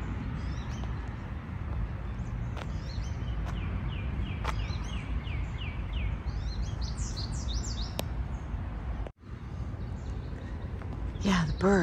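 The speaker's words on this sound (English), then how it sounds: "Can you hear the birds?" Birdsong outdoors beside a parked camper van: scattered bright chirps and short trilled calls from a few birds at moderate distance, repeating over a steady broadband background hiss.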